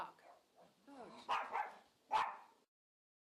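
Bindi, a small pet dog, gives a few sharp indoor barks and yips at close range, with short bursts mixed in among a woman's quiet speech.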